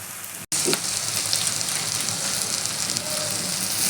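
Cabbage curry with garam masala crackles and sizzles in a pan while being stirred, a steady close hiss of frying after a brief cut near the start, with no talking over it.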